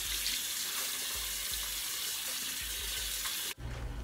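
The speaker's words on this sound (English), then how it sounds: "I'm gonna go now and wash my face." Tap water runs steadily into a sink during face washing, a continuous hiss that shifts abruptly near the end.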